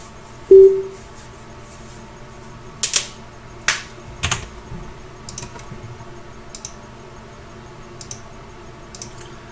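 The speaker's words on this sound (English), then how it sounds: "I'm sorry about that clicking" Scattered clicks of the kind heard on a recording during a Zerg vs Zerg StarCraft coaching session, sounding like sharp keyboard or mouse taps with one louder click early on and fainter irregular clicks following.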